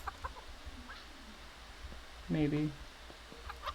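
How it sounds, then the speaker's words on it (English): Minecraft chickens clucking in a short burst of stacked, nasal tones near the middle, with scattered game noises and a brief spoken word around them. "It was in the chickens."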